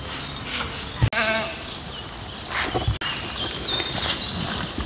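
A sheep bleats once with a wavering call amid rustling and shuffling, followed by more faint farmyard noises and soft movement.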